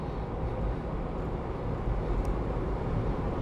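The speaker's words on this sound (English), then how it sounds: "I just want you to hear how nicely the truck runs." 2001 Isuzu Trooper engine running while driving, a steady low rumble with road and wind noise from inside the cabin, constant in level with no talking.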